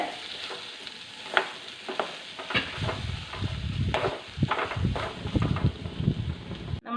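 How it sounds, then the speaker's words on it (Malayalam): Coconut milk goes into a sizzling Kerala-style mango curry, with a steady frying hiss swelling as it is stirred and poured, close and fairly loud, ending in a sharp clatter. "ഇതിലോട്ട് നമ്മളിനി തേങ്ങാപ്പാലാണ് ചേർക്കുന്നത്"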